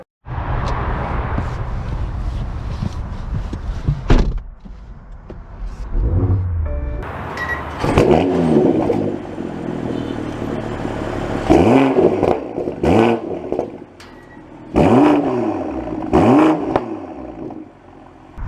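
2023 BMW M440i xDrive Convertible being driven, with an engine note that rises and falls through several distinct acceleration runs and gear changes, heard loud and close from inside the car.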